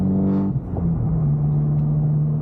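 An Abarth car engine pulls hard with a steady low drone that dips briefly and climbs again, heard from inside the car, loud and continuous.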